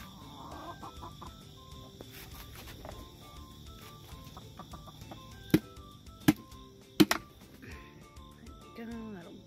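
Chickens cluck steadily in their run at feeding time while they are given fermented feed, with several close, sharp clucks standing out among the softer background chatter of the flock.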